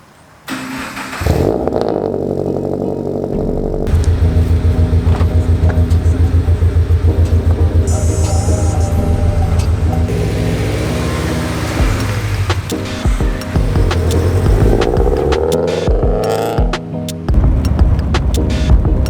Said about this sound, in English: I haven't driven this in a while. We'll see if I remember how to drive stick.